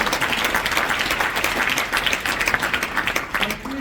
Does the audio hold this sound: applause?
yes